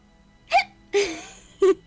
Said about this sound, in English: I'm with hiccups.